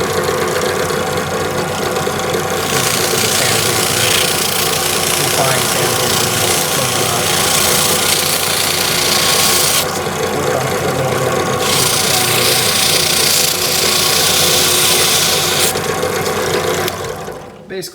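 A rear brake caliper slide pin spins in a power drill while it is sanded smooth with fine sandpaper, making a loud, continuous whirring grind that holds steady for about eighteen seconds before cutting off.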